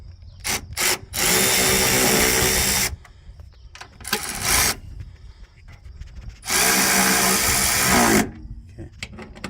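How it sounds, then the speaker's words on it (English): Screws on the EGR valve of a 2008 Dodge Durango are driven in with a ratchet, giving several short whirring bursts and two long, loud buzzing runs close by, with quiet pauses between them. "Alright, now we're gonna tighten the screws."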